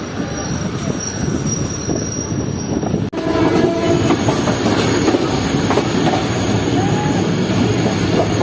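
Evening train pulling into a station, loud and close: steady rumble of railcars and clattering wheels with squealing brakes, a sharp break near the start, continuing without talk.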